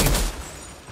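A gun firing in the Outriders game: a brief loud blast of gunfire at the start that quickly decays into a fading tail, heard alone.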